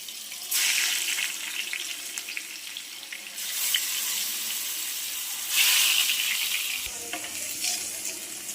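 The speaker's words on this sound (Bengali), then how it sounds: "তেলটা গরম হয়ে গেছে, প্রথমে আমি আলুগুলোকে ভেজে নেব" Potato pieces frying in hot oil with a spoon of ghee, a close hissing sizzle that rises in bursts as pieces go in and settles between, with no talk.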